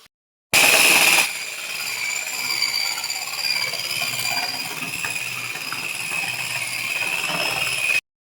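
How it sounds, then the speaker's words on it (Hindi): Floor grinding machine polishing a house floor, a steady loud mechanical whir with high whining tones that starts abruptly and runs continuously, close by. "तो चलो मैं आपको ये दिखाता हूँ ये घिसाई कैसे होती है।"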